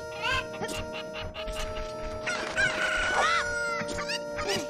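Chickens in Ocarina of Time cluck and crow repeatedly in quick, overlapping bursts, loud and close, with game music tones sustained underneath.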